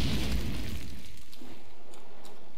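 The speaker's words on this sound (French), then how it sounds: "Grenade!" A grenade blast in Call of Duty 4 multiplayer search and destroy on the Invasion map, a loud booming explosion at the start that rumbles and decays into faint debris and crackle.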